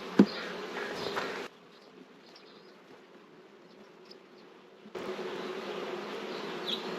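Honeybees hum at an open hive as frames are inspected, a steady close buzzing that drops to a softer drone midway before swelling loudly again, with no talk.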